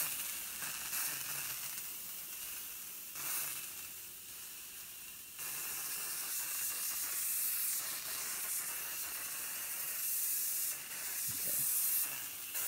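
Hissing spray from a handheld spray device used inside a new apartment, steady broadband bursts with short pauses, close and fairly loud with no talking.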